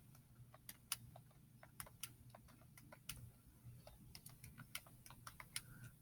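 Rapid irregular keystrokes on a computer keyboard as data is entered, close and clear over a low steady hum, with no talking.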